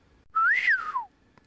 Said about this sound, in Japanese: 鋭い口笛の音がした